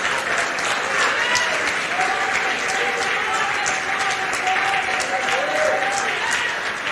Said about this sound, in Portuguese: Você pode aplaudir Jesus por essa bendita palavra, irmão?